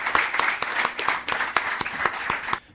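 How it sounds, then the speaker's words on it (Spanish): A small audience claps at a Spanish-language university conference on interest-rate risk management, giving short, uneven applause with distinct individual hand claps, close and moderately loud, with no talk over it. "Pido un fuerte aplauso para todos ellos."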